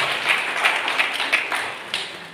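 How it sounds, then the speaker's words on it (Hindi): Audience applause at an International Women's Day 2022 event, a short steady patter of many hands clapping with a few sharper claps standing out. "ताली तो जोरदार बनती है"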